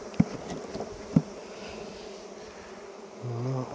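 Bees buzzing around a beehive, a close insect drone with a couple of sharp knocks and a louder buzz near the end.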